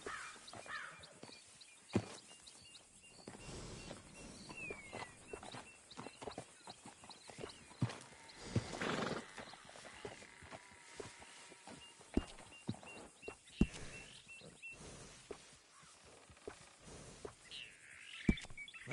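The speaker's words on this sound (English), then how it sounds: "This is a damn good ranching horse, made for working." A working ranch horse in the Red Dead Redemption 2 video game walks with soft, steady clip-clopping hooves, fairly quiet, with an occasional faint whinny.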